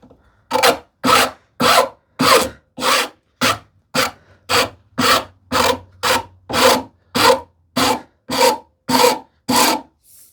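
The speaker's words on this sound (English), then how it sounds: "I will use my rasp to get still the finer side of this rasp." The fine side of a hand rasp files wood in about seventeen even back-and-forth strokes, each a crisp scratchy burst separated by short pauses, close and clear.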